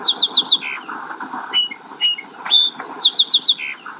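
A hyperactive cave bird in an Unreal Engine 4 demo chirps and tweets in rapid, looping bursts, bright and busy, repeating trills close up with no talk.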